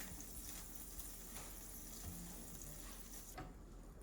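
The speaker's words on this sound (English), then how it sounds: "I'm gonna take this butter and I'm gonna put it on the pan" Butter sizzling in a frying pan on a home stove, a steady close crackling hiss that runs throughout and softens slightly near the end.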